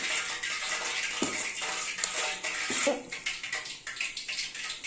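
Water splashes and trickles steadily into a bowl of dill-leaf and onion bonda batter, a continuous wet pouring noise close by with faint clinks, no talking.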